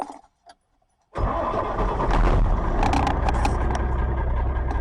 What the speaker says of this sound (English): Get up in the truck, crank it up.